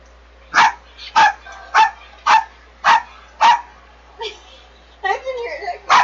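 A dog barks loudly and close by, six sharp evenly spaced barks followed by a shorter yip and a whimpering, excited run of sounds at the end.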